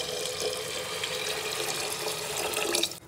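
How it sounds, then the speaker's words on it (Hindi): Water pours steadily into a pot of moong dal in a continuous bright splashing rush that stops abruptly at the end. "अब इसमें दाल की क्वांटिटी से ज़्यादा 4 गुना पानी डाल"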